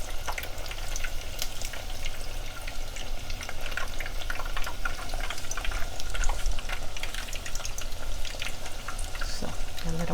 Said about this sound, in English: So I'm going to let them fry on the other side for about another minute and a half or so.